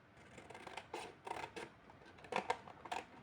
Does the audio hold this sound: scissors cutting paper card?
yes